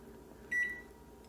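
A single bright electronic beep from a kitchen timer being set for twenty minutes, clear and close, standing above a quiet room hum.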